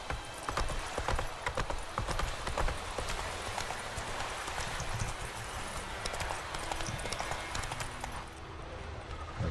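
Horse hooves galloping at a steady, rapid clip-clop in The Witcher 3, running continuously and loudly over a busy game soundscape, with the rhythm easing slightly near the end.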